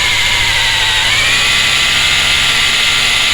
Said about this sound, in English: So if I lift the drill up and push that way